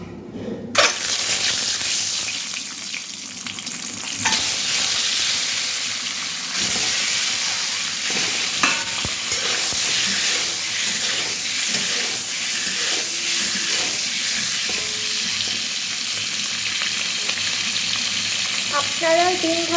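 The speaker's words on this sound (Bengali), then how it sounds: "ডিমটা ভাজবো।" Egg frying in hot oil seasoned with salt and turmeric, a loud continuous close sizzle and hiss with occasional stirring scrapes, lasting throughout with no talk.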